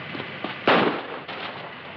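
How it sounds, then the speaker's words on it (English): A single gunshot cracks out loud and sharp mid-clip on a 1941 movie soundtrack, set beside a train where a fleeing man was ordered to stop, with a brief ringing decay before a softer background returns. "Sounded like a shot."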